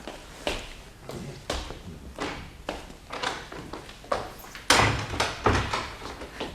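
Door handled in an old French radio drama, a series of knocks, clunks and latch clicks spread across several seconds, fairly close, with a louder thump near the end and no voices.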